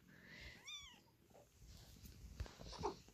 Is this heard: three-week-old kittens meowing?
yes